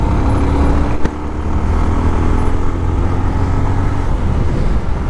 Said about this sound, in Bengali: একটু বাইকের পাওয়ার চেক দিব ফোর্থ গিয়ারে